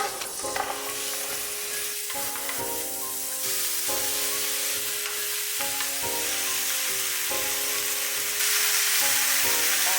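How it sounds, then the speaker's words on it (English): Vegetables sizzle loudly in a hot skillet, the steady frying hiss broken by repeated scraping stirs and tosses, close up with no talking. "Once you got all your veggies in the skillet,"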